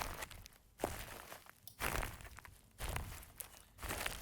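Chopped sample of little stones and leaves crunching, four short gritty bursts with quick attack and strong decay, evenly spaced and close.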